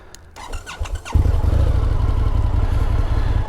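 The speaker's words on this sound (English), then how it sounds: "The big honkin' V-twin, 1200 V-twin, American, baby." An Indian FTR 1200 Carbon R motorcycle with a 1200 cc V-twin and an aftermarket exhaust gives a few uneven blips, then settles into a loud, deep, steady rumble as it pulls away close by.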